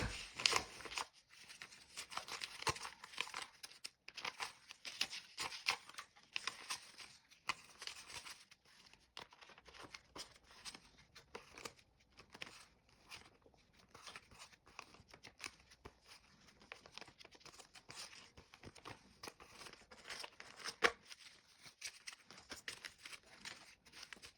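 A paper cash envelope being straightened and smoothed out by hand, giving a continuous close, quiet rustle and crinkle of paper with scattered soft taps, no voices.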